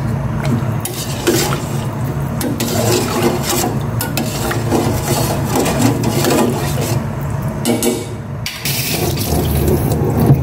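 Vegetables for a pork sinigang are rinsed under a running kitchen tap, a steady close splash of water into a sink that continues for the full stretch with small shifts in flow and occasional clatter.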